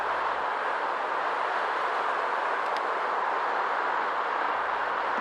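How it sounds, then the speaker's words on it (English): A BNSF freight train led by two C44-9W locomotives runs in reverse south on the main line at Larkspur, Colorado, with Interstate 25 traffic nearby, producing a steady, unbroken broadband roar that holds at one level throughout. "another BNSF train reverse running south on Main 2"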